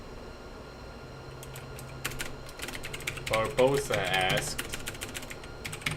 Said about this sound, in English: Matisse whipped out his keyboard.